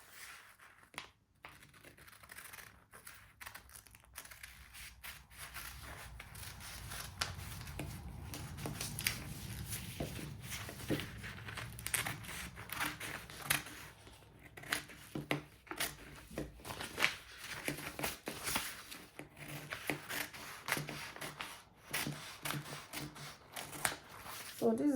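Fabric scissors cut along the armhole of an off-shoulder top, giving a steady run of crisp snips and rustling cloth close to the mic, with no talking.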